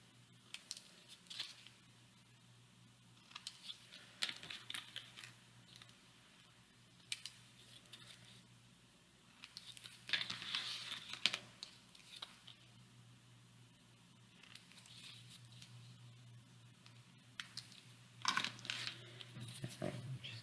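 Paper corners snipped for a handmade mini album, a few faint, scattered crisp cuts and rustles over a low steady hum, with a louder cluster of snips near the middle and another toward the end.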